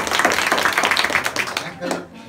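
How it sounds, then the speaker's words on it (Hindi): Students at an inter college adolescent education program clap in a brief scattered burst, close and busy, with voices mixed in and the clapping fading out near the end. "तो ताली बजाओ पहले जिनको मालूम है"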